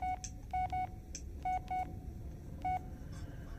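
A phone in the Blair Witch video game dials a string of short, evenly clipped keypad tones in an irregular rhythm, moderately loud over a low background rumble, with no talking.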